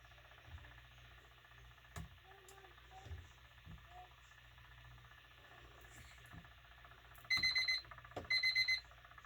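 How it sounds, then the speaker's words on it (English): A kitchen timer beeps in rapid electronic bursts near the end, two loud clusters against a quiet room with faint handling noises during a soap-making session. "Forgot to turn that timer off earlier"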